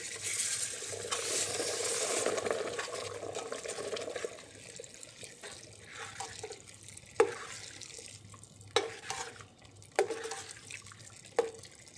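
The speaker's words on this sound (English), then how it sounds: "Gradually, add brown stock" Brown stock poured gradually into espagnole sauce, a steady liquid stream at first that gives way to quieter splashes and several distinct clinks and knocks of a utensil against the pot.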